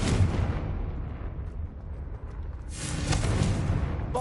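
Rumbling explosion from the Confringo spell in a Hogwarts video game, a heavy low boom that fades into a hollow decay before a second blast swells up, with no speech.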